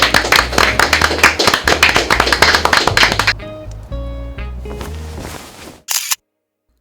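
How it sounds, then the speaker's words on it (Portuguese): Rhythmic clapping, fairly loud and close, with steady even beats for about three seconds before stopping abruptly, followed by a tonal musical passage. "Uma salva de palmas à memória negra."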